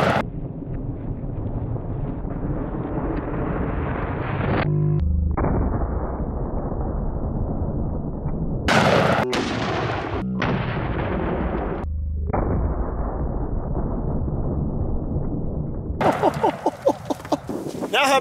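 Several sharp, heavy gunshots from a 500 S&W Magnum snub-nose revolver fired at produce outdoors, each blast loud and abrupt against steady wind noise, with a cluster of quicker reports near the end.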